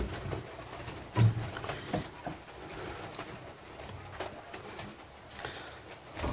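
A remetuk laut bird gives soft, cooing calls against a noisy, rustling background, with one slightly stronger call early on and fainter notes after.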